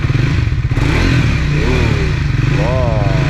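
Triumph Speed 400 single-cylinder motorcycle engine firing up and revving close by, a loud, continuous rumble that swells with two throttle blips, with clattery mechanical noise throughout.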